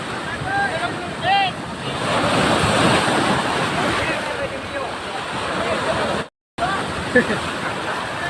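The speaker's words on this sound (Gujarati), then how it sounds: "મોજા અને પાણી બહુ આવી રહ્યું છે" Sea surf surges and breaks steadily at a Ganpati immersion on the shore, loud broadband rush with wind buffeting the microphone and people talking over it, briefly cutting out near the end.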